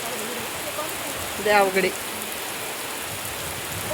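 Heavy rain pouring down on farmland, a steady, dense hiss of downpour throughout, with a person speaking briefly over it.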